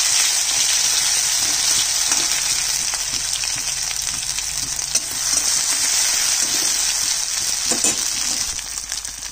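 A garlic and green chili paste fries in oil with dried chili and nigella seeds in a home kitchen, giving a loud, continuous sizzle. Occasional stirring scrapes sound close by.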